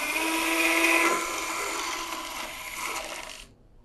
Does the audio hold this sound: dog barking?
no